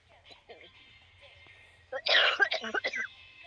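A burst of harsh coughing, several rough bursts close together, loud and near after quieter background murmuring.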